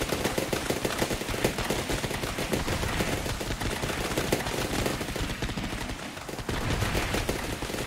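Dense, continuous rattle of many machine guns firing at once in the tower-defense game Forts, a steady rapid stream of shots that barely lets up, with one short dip near the end.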